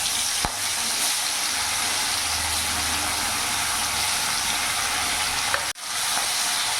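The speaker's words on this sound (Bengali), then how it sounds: "তেল গরম হয়ে গেছে, এবার মাছগুলো দিয়ে দেবো।" Silver carp pieces fry in hot refined oil, a dense, loud, steady sizzle and crackle with a couple of brief clicks, cutting out abruptly near the end.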